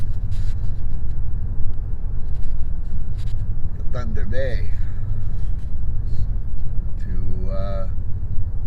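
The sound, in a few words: car driving on the road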